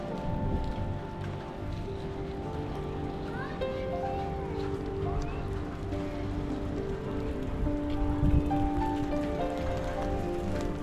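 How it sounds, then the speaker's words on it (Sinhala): Steady rain falls in Tbilisi, Georgia, a constant patter on surfaces with distant city hum and faint tonal sounds underneath, one brief louder thud partway through. "මොකද වහිනවා මෙහෙට"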